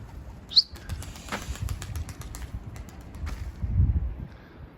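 Mardin tumbler pigeon taking off from a rooftop early in the morning, with a sharp burst of flapping wings followed by a steady low flutter and faint bird chirps in the background.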